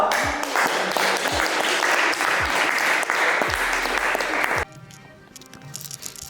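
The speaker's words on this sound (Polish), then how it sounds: "proszę o wielkie brawa!" Loud, close applause from a workshop audience, a thick burst of clapping that stops abruptly, followed by quieter room sound with some talk.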